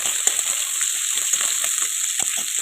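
Green chilies fry in hot oil in a home kitchen, a steady close hiss of sizzling broken by soft pops and spatters, with no voices.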